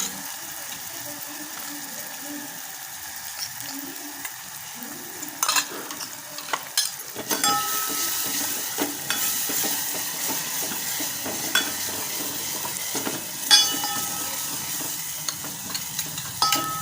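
Chili and garlic fry in a pan for a Marathi dried green chickpea dish, with soft sizzling and intermittent scraping stir strokes that grow brighter and more frequent in the second half.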